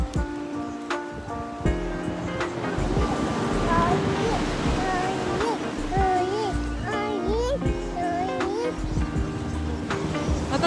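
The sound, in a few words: ocean waves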